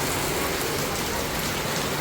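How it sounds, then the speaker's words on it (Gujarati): Heavy monsoon rain pours down in Surat, a dense, steady hiss of drops striking surfaces, loud and unbroken, with no voices. "કાલથી વરસાદ ચાલુ થઈ ગયો છે એટલે સારામાં સારો વરસાદ છે"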